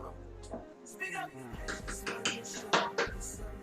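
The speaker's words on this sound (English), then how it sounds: "I'm gonna stir our rice." Rice stirred in a pot while cooking Cuban shredded beef, with soft scraping and clinking of a utensil against the pot, close and fairly quiet, heard under ongoing talk.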